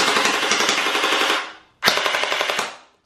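Cheap gel blaster firing on full auto: two rapid bursts of sharp, buzzing shots at a fast even rate, loud and close, the first about a second and a half long, a short pause, then a second burst.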